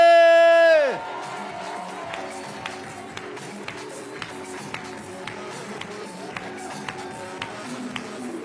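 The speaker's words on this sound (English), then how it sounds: "Let's keep those claps going." Rhythmic clapping from an audience at a women's gala dinner, steady and fairly faint, begins just after a short burst of music ends. A light crowd murmur continues in the background.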